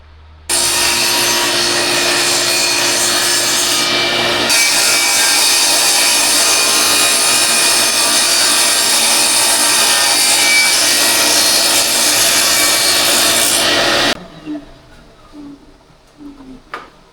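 Loud, continuous power sawing splitting 2x4 wood boards for about fourteen seconds, then cuts off, leaving faint clattering and background fan noise.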